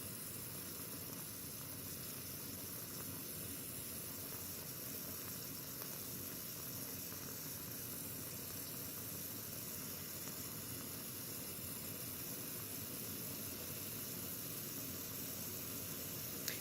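Ninja Foodi pressure cooker venting steam, a steady broadband hiss running unbroken and fairly quiet for the whole stretch with no one speaking.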